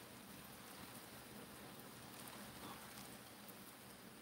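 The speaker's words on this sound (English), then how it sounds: "Oh, my God, it's raining again, y'all. Listen to that." Steady rain falls outside in a soft, even wash of patter, heard from indoors with no one talking.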